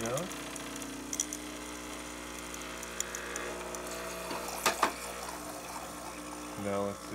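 Water is forced out of an espresso machine's steam line while the pump is being primed, a steady hissing, gurgling spray under a constant motor hum, with a few clanks near the end.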